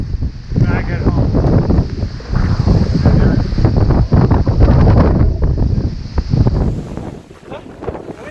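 Strong wind buffets the microphone in loud, continuous roaring gusts on a winter mountain traverse of the Presidential peaks, easing slightly near the end.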